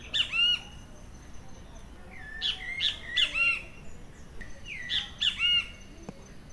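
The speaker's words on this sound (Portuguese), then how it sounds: "Esse canto que a gente acabou de ouvir é o do bem-te-vi" Great kiskadee (bem-te-vi) singing, several bright, sharp whistled phrases repeated in clusters across the clip, clear and fairly close over a quiet background.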